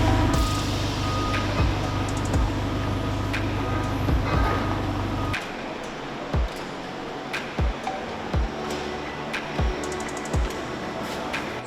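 A 6,000 pound forklift gives out loud, regular reversing beeps over heavy engine rumble, then the rumble drops away and sharp, spaced beeps and clanks continue in a workshop.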